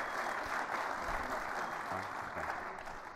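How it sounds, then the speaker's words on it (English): Conference audience applause, a continuous crackling wash of many clapping hands heard from a distance and fairly faint, with low murmuring voices underneath. "How about one more round of applause?"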